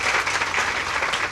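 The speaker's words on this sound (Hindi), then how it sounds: "ताली तो बजाओ।" Audience applause at an inauguration ceremony in Saraswati Vihar, Delhi, sustained and dense throughout, a steady wash of many hands clapping together close by with no break.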